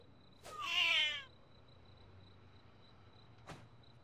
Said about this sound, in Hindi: ये एक जंगली बिल्ली है